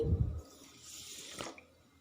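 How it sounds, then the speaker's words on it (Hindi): Half a cup of water is poured into half a kilogram of sugar in a pan to start a sugar syrup for a sweet, a faint, brief splashing pour that follows a low thump, with no talking. "यहाँ पर ऐड करेंगे हम ½ कप पानी"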